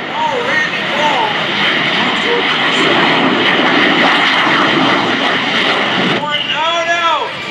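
Randy Ball's aircraft powers up at the 2024 MCAS Cherry Point Air Show, a loud sustained engine roar filling the clip while an announcer's voice talks over it through a PA.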